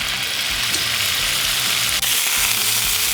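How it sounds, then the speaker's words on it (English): Pork medallions sear flat side down in olive oil in a hot skillet, giving a steady, dense sizzle that crackles evenly for the whole stretch, close and fairly loud, with no voices. "Now that the pan's nice and hot, we're going to place these flat side down."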